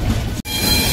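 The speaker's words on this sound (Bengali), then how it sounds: "দেখতে পাচ্ছেন লোকাল ট্রেন আনাগোনা লেগে রয়েছে।" Local trains at Howrah station platform in Kolkata, a steady loud rumble of wagons rolling past with a brief sharp drop to near silence midway, then the rolling noise resumes.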